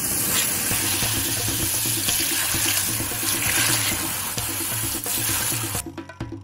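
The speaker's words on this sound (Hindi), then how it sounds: "फिर समुद्र के पानी की एक मोटी धार भीषण गति से अंदर गिरने लगी।" A comic sound effect of sea water gushing into an underwater valley through a tunnel: a loud, continuous rushing torrent with a low droning tone beneath it. The sound cuts away abruptly near the end.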